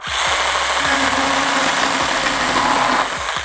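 A STIHL GTA 26 cordless mini chainsaw with a brushed 10.8-volt motor cuts through dry wood, giving a loud, continuous whine close by that stays steady and eases slightly near the end.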